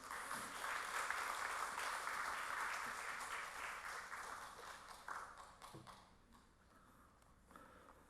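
Church congregation applauding to welcome a visiting pastor at a worship service, a broad sustained wash of clapping that slowly thins and fades, with a few scattered claps at the end.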